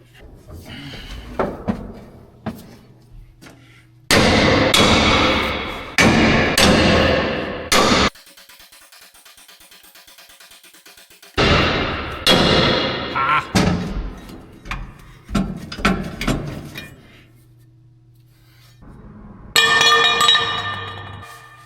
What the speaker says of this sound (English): I'm gonna see if a hammer will finish that off.